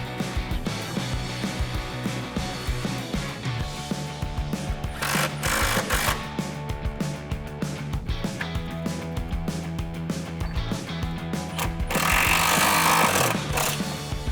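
A power tool hammers rapidly and continuously, close up, while bolting a brake line bracket onto the frame of a 1979–2004 Mustang coupe, with a harsher, louder burst near the end.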